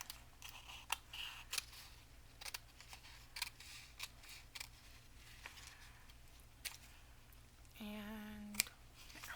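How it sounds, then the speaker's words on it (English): Scissors trim paper in a run of sharp, quiet snips spaced irregularly, close and alone, with a brief tonal squeak near the end. "Trim off that little curlicue."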